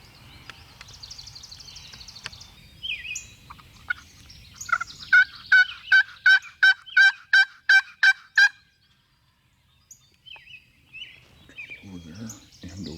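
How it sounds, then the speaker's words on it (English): A series of about eight rapid, evenly spaced wild turkey gobbles rings out from far off, with fainter bird calls before and after in an otherwise quiet setting. "2 gobbles, but they now sound really distant, so I think it's because the turkeys are on the ground"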